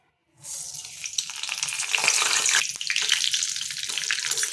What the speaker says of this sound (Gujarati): આપણું જીરું ને બધું કકડી ગયું છે